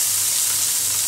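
Green curry paste hisses and sizzles loudly in a hot pan for a brief moment, a dense, even frying crackle while it is stirred.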